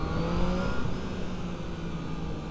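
A loud motorcycle engine revs and hums up close, its tone climbing briefly before settling into a steady, rumbling idle.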